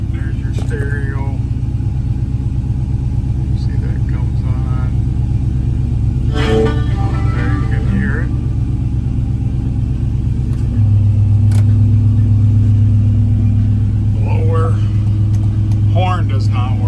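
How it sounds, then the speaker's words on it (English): A 1975 GMC Jimmy Custom with a 6-liter engine and Holley fuel injection idles with a steady, deep rumble that rises slightly partway through, while someone talks over it. "Let's start up our 75 GMC Jimmy."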